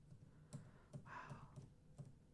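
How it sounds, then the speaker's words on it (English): Computer keyboard typing during a live coding session, quiet evenly spaced key taps, about one every half second, with a faint longer rustle in the middle. "my typing is awful live"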